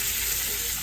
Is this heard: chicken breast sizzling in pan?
yes